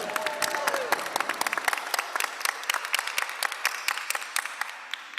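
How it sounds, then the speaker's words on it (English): An audience at a school district address applauds the students. Scattered, distinct claps come from a moderate-sized crowd at a steady level, with a brief voice near the start. "I would like to applaud our students one more time for doing an amazing job"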